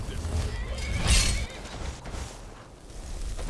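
A horse in the video game Skyrim lets out a single loud whinny about a second in, rising over a busy backdrop of rumbling combat and ambient noise.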